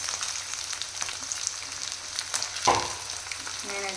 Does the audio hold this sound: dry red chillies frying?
yes